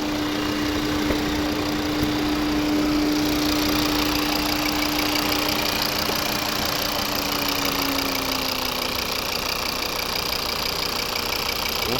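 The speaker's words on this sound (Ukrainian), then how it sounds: "Це робота двигуна." A Volvo V50 D4 two-litre five-cylinder diesel engine idles steadily up close, a continuous rough rumble with a faint knocking texture and a soft hum that slowly fades.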